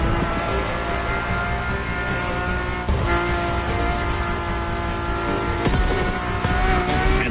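A Ferrari sports car engine roars steadily in The Crew Motorfest, loud and sustained with strong harmonic drone, a brief dip in the middle, then shifting revs near the end.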